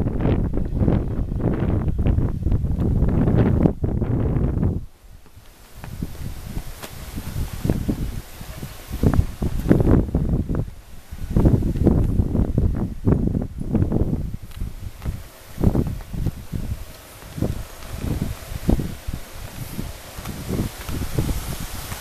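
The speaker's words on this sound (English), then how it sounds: "that's how the wind has been ever since" Strong outdoor wind roars and buffets the microphone in long heavy gusts, easing briefly and then surging again among rustling leaves, with no talking.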